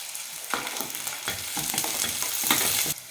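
Onions and two broken dried red chillies sauté in a pan for a plain pulao, a dense close sizzle with repeated stirring scrapes and knocks, with no voices.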